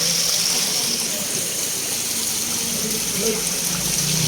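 Spring water flows in a steady, close rushing stream, a constant gushing wash with no pauses and faint voices in the background.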